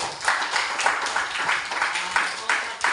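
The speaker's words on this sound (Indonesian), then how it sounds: "tepuk tangan untuk kita semua." A classroom of students claps together in a quick, rhythmic burst of repeated hand claps, close and fairly loud, with voices mixed in.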